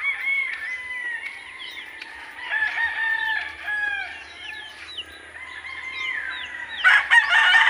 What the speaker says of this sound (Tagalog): Yan, mga sisiyo nga po yung range.